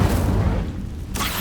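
A fire spell cast in the video game Hogwarts Legacy, heard as a loud, dense burst of whooshing flame and booming rumble that fills the whole moment, with a brief dip before a fresh flare at the end.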